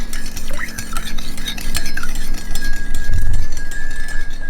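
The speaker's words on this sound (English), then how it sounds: "I'm gonna put it in here and mix it." A spoon stirs turmeric into a cup of liquid, clinking loudly and rapidly against the sides in a steady rhythm close by.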